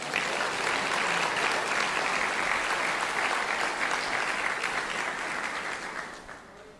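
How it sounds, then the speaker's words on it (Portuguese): A church congregation applauds the Lord, a thick, even roar of clapping that stays steady for several seconds and then tapers off near the end. "Por favor, aplauda o Senhor."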